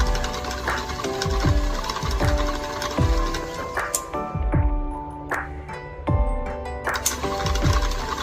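An antique electric drill press motor runs steadily with a constant whirring hum, punctuated by heavy rhythmic knocks about once a second, loud and close, with no voices.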